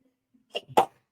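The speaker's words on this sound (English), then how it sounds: "Oh, I gotta sneeze." A single sudden sneeze, close by, preceded by a short sharp intake of breath and followed by a brief exhale.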